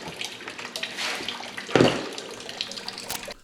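Coolant water drains from the radiator of a 1955 Chevy truck in a garage, a continuous close trickle and splash with one louder gush partway through.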